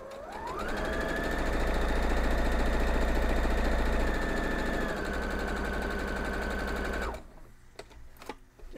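A sewing machine stitches a quilt block in a steady, close mechanical whir that runs for about seven seconds and then stops, leaving a few faint handling clicks.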